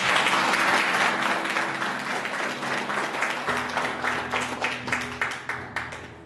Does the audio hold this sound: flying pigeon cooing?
no